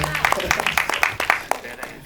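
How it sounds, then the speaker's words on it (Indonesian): An audience at a horror film trailer launch claps in a short burst of scattered, individual handclaps that tails off over about two seconds, with voices mixed in. "Tepuk tangan dong"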